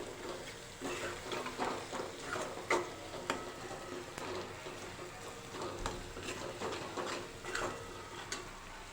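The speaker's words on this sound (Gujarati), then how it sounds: "બરાબર મિક્સ કરી દઈશું" Ginger-garlic paste and salt stirred in a hot pan while cooking green onion and sev curry, a low steady sizzle with scattered spoon scrapes and clicks, fairly quiet and without talk.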